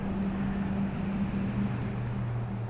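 A steady engine hum from a passing vehicle, a sustained low drone that shifts slightly in pitch midway, moderately loud with no voices.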